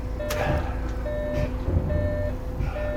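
A coach's reversing alarm beeps at a steady rhythm, about four evenly spaced tones over a low idling diesel rumble, close and clear with no talk.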